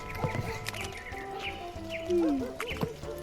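Horse in a video game set in a rural farm area, with soft hoof clip-clops and a brief whinny amid ambient birds, fairly quiet in the background.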